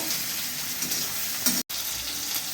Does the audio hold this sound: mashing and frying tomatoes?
yes